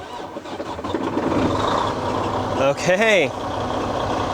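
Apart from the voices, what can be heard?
Freightliner Cascadia truck engine starting and idling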